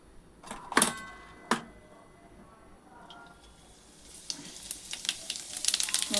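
Cumin and green chillies hit hot oil in a pan, with a few sharp clanks and bursts of crackle at first, then a rising, spitting sizzle that grows louder and denser toward the end.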